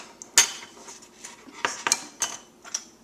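A metal rim and lid are set on a glass canning jar of currant jelly and screwed down fingertip tight, giving several sharp metallic clinks and taps spaced irregularly, close and fairly crisp.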